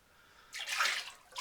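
Thin chino glaze poured inside a ceramic pot, a brief liquid pour that starts abruptly, swells into a splashy rush of liquid and tapers, close and alone.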